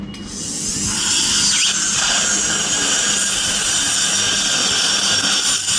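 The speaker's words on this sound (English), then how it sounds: "So first we are going to use this carbide burr on this straight handpiece." A carbide burr on a dental straight handpiece reshaping jaw bone before implant placement produces a loud, continuous high-pitched whine with gritty grinding texture. It runs steadily and close up for several seconds after a brief start-up.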